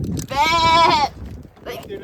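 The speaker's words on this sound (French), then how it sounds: "c'est juste des brebis" A ewe gives one long, loud, quavering bleat close by in a pasture, with people talking just before and after it.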